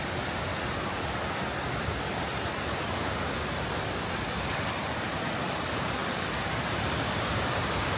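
Roaring water at close range beside a Yosemite waterfall, a steady broadband rush of falling water and spray that stays loud and unbroken with no voices.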